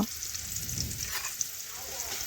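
Finely sliced onions fry in hot oil, giving a steady, close sizzle with soft bubbling and a few brief stirring clicks throughout.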